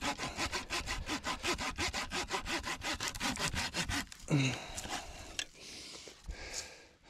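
A handsaw cuts through wood in about four seconds of quick, rhythmic rasping back-and-forth strokes, close and clear, followed by a few scattered knocks and rustles as the sawing stops.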